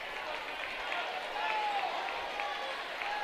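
Basketball crowd noise from packed student sections at a high school game in a gym, a steady loud wash of cheering and clapping that swells slightly midway, with no talking over it.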